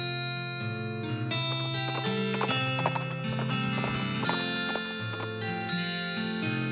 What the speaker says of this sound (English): he hitches a ride on the very next passing stagecoach